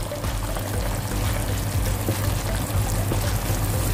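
Coconut cream, the first pressing, pours steadily into a pot of chicken feet and softened papaya for a Filipino ginataan stew; a continuous, close, fairly loud liquid rush with no talk.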